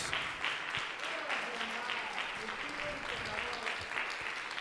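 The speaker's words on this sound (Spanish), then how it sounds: "denle un aplauso al Señor, hermanos, si quiere darle un aplauso a nuestro Señor Jesús." Church congregation applauding, continuous dense clapping filling the space, with a voice speaking faintly over the crowd.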